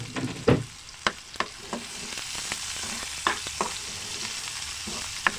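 Beef with garlic and shrimp paste frying in a pan alongside bitter melon, a soft continuous sizzle punctuated by sharp, irregular clacks and scrapes of a utensil being stirred.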